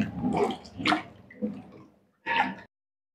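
Indian gooseberries (amla) being washed by hand in a container of water, with a few short sloshing splashes separated by pauses, close and fairly quiet.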